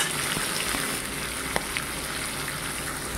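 Rupchanda pomfret fish fry in plenty of hot oil, giving a loud, continuous close-up sizzle broken by a few sharp spits and pops.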